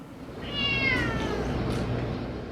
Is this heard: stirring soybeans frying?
no